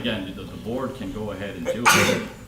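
A sneeze bursts out near the end of a village committee meeting in a council room, a short sharp noisy blast following steady talk from a speaker discussing board matters.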